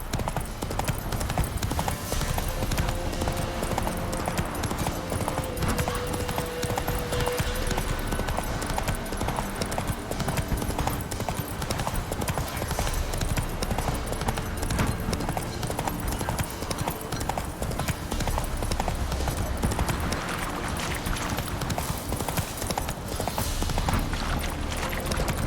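Horse hooves gallop in The Witcher 3 video game with rapid, continuous clip-clop over a busy game soundscape, loud and close throughout, with some speech in places.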